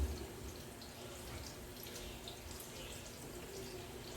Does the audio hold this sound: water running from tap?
yes